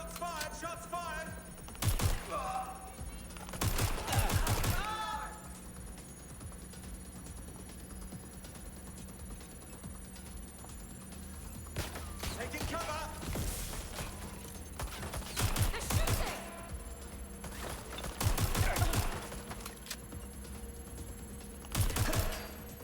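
Gunfire in the video game Watch Dogs Legion, scattered bursts of sharp rapid shots and bangs over a low hum, with quieter gaps between volleys.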